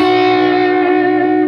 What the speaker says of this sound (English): just a real smooth vibrato with the whammy bar